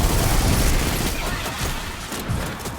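A grenade goes off in an online shooter video game, a loud muffled boom that rolls into a dense clatter of gunfire and blasts tapering over a few seconds, no talk.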